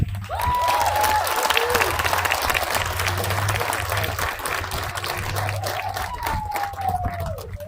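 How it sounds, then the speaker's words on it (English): Sustained applause from a large crowd at a high school afternoon graduation ceremony, steady and fairly loud throughout, with a low hum underneath and faint whistles or cheers rising now and then. "give a round of applause for the janitors of the school"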